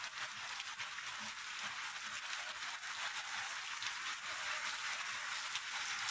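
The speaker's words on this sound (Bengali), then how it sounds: "আমি বৃষ্টিতে সাইকেল চালাচ্ছি" Steady rain falls as a continuous broadband hiss, moderately loud and unbroken, with no voices over it.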